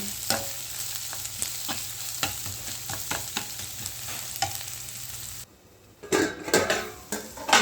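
Onions sauté in a pan for mushroom biryani, giving a continuous soft sizzle punctuated by repeated spoon scrapes and clinks, ending with a louder burst of stirring and pan clatter.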